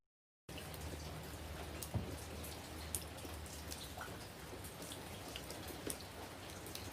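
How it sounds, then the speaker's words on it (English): Steady rain falling, with scattered drops pattering on a surface and a low constant hiss throughout. "Because like it's raining now"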